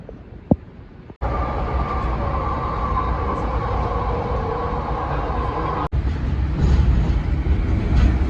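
An AirTrain rail shuttle at a New York airport, heard from inside the car as a loud, steady rumble with rolling wheel noise, starting after a brief quieter moment and continuing with a short break in the middle.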